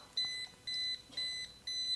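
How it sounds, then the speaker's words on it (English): A timer alarm goes off in four even electronic beeps, each lasting about a quarter second with short pauses between. The beeps are loud and close and play alone. "Do you hear our timer going off?"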